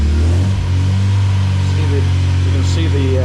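An MGB engine fitted with an Ignition123 distributor revs up to around 3000 RPM, a steady, loud, close mechanical drone with a strong low hum that holds throughout.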